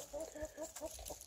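Clucking and short calls from a young Sussex rooster, about seven to eight months old, among hens in a farmyard, several close, fairly faint bursts of fowl vocalizing rather than a full crow.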